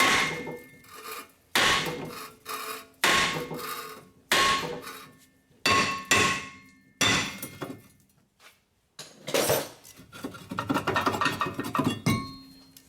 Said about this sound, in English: So we're gonna tap this out.